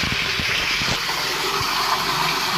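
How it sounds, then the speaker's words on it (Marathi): Spring water at Gaymukh rushing down from the mountain beside a Datta temple, a steady, close, full hiss of gushing flow with a few low knocks early on. "डोंगरातून पाणी येतं"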